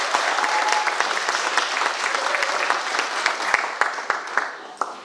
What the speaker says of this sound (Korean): 총재님들 수고하신다고 박수 한번 해주실까요?